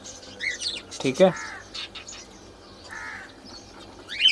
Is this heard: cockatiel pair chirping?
yes